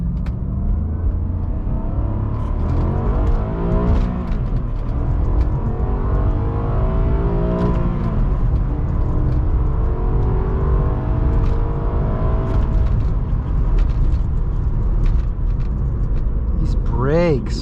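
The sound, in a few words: 2006 Maserati Quattroporte accelerating in first gear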